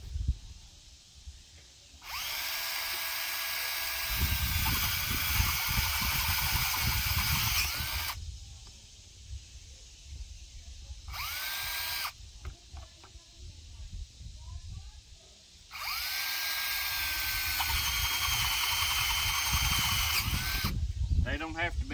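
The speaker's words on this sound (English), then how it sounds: "I'm going to drill those holes with a 3/4-inch bit." A power drill with a 3/4-inch bit whines through PVC pipe in two long bursts with a short burst between, loud and close, with some talking in the background.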